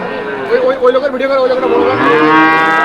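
A cow moos loudly and close by at a busy cattle market, one long, wavering, drawn-out call against a faint crowd murmur.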